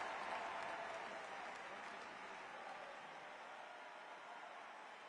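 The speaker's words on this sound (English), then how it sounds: "Join with me in giving a huge round of applause to President Biden." A rally crowd gives President Biden a big round of applause, a dense, steady wash of clapping and cheering that fades slightly over the few seconds.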